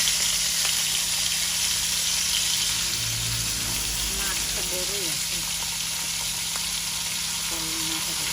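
Hilsa fish frying in hot oil, a steady, close, continuous sizzle with faint clinks of stirring and brief background voices throughout.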